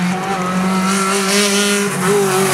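A Honda rally car on a stage of the Sol Rally in Barbados, its engine holding a loud, steady, sustained drone with shifting pitch, close by and continuous, with faint tire noise and no talk.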